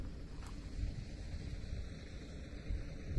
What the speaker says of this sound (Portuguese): E o vento, gente, geladinho o vento aqui no alto.